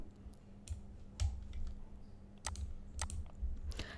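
Computer keyboard keys pressed in a few scattered clicks while deleting text during a design tutorial, quiet and close, with a low steady hum underneath and no talking.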